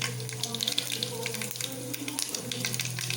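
Mustard seeds crackling in a little hot oil in a pan at the start of making coconut rice, a continuous close sizzle dotted with small sharp pops, with a faint voice and a low hum underneath.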